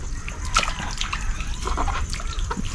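Water splashes and trickles close by as it is poured from a tub over small wet shrimp-like catch being cleaned at home, an uneven run of drips and gushes without talking.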